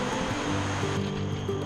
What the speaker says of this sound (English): There's a waterfall in the woods.